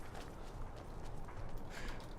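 A horse in Skyrim approaching with soft, quick hoof clops in a steady run, faint and close, without speech.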